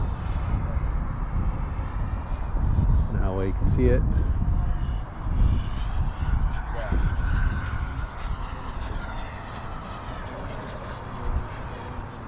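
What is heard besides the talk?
small jet aircraft flying overhead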